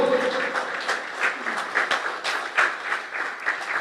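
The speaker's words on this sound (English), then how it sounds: "I want to give all the children and all the parents a round of applause for participating so fully." A children's essay competition prize-giving audience applauds steadily for nearly four seconds, a dense wash of many hands clapping at a moderate distance with no talking over it.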